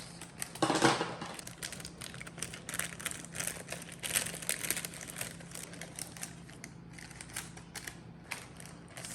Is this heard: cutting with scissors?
yes